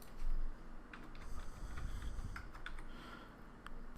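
Soft typing on a computer keyboard while entering a code during online account setup, with a run of quiet, irregular key clicks over low background hum and no talk.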